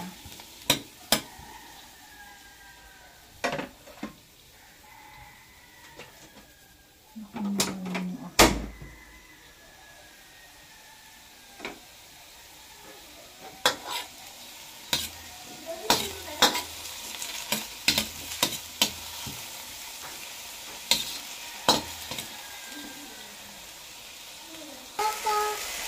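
Tuna pasta sizzles softly in a pan while a utensil stirs and scrapes it in scattered bursts, with occasional knocks from cupboards or drawers in a home kitchen and a few faint voices.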